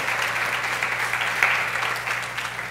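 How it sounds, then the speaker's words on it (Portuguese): A church congregation at a morning service applauds in praise, a soft, dense wash of clapping heard at a distance over a steady low hum from the room's sound system. "eu queria que você aplaudisse e glorificasse o nome do Senhor"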